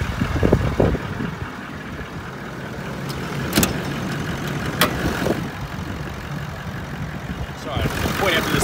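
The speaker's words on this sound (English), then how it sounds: "I'll show you actually the engine running while we're under there, just so you can hear" A 2014 Toyota LandCruiser 70 Series Workmate four-wheel drive engine idles in a low, steady rumble, with occasional clicks and knocks nearby and some faint movement sounds.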